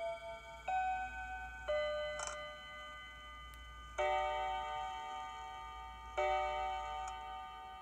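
A clock chimes two o'clock with clear, ringing tones that strike and then slowly fade, in a quiet room with no talking.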